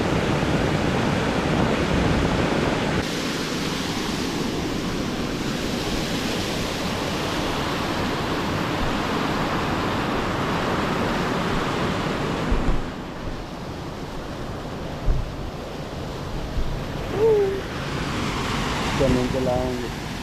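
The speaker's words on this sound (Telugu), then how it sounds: "ఇది వాటర్ ఫాల్ ఇలా వెళ్ళి అలా కిందకి వెళ్తుంది." Water pours down the Ethipothala waterfall at low flow, a broad steady rushing roar mixed with wind buffeting. Faint voices come in toward the end.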